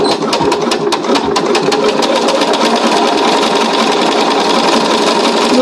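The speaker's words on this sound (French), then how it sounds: "je fais la couture exactement de la même manière de l'autre côté" A sewing machine stitches a seam on a pouch, a loud, close, continuous rapid whirring and needle chatter that runs without pause.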